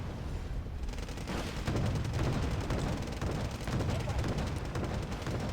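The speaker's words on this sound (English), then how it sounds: "Let's put some artillery fire on this town first." Dense, continuous artillery and gunfire from a Wargame Red Dragon battle, with booms and rapid shots layered steadily throughout at a loud, busy level.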